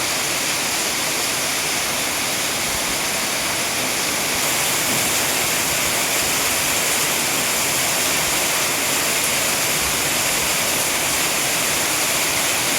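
Floodwater after heavy rain rushes in a loud, unbroken roar, steady and close throughout, with no voices over it.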